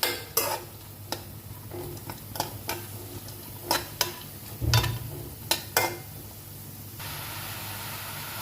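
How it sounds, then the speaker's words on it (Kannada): Frying in a pan on a low flame, a soft continuous sizzle broken by repeated sharp spatula clicks and scrapes against the pan, close and alone. "ಚೆನ್ನಾಗಿ ಫ್ರೈ ಮಾಡ್ಕೊಳ್ಳಿ. ಲೋ ಫ್ಲೇಮ್ ಮೇಲೆ ಇಡಲಿ"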